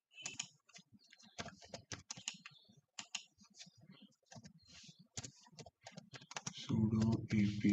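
Rapid clicking of keys on a computer keyboard as a Linux terminal command is typed, irregular bursts of keystrokes close and fairly quiet, ending in a louder, heavier clatter.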